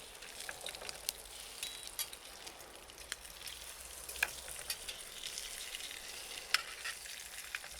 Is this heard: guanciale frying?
yes